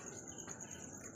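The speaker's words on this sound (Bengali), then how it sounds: "আর বাইরে শুনতে পাচ্ছ ঝিঝি পোকার আওয়াজ" Crickets chirp at night in a steady, high, pulsing trill, continuous and fairly faint, with no voices around.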